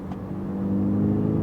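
A 2014 Volkswagen GTI with a dual-clutch DSG gearbox and modifications accelerates hard, its engine note rising in a loud, close, steady drone as it pulls through the gears.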